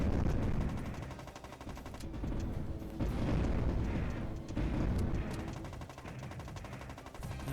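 Dense, continuous gunfire and booming explosions from the PS2 shooter Borderline (Sega Ages vol 23), a steady loud barrage with no talking.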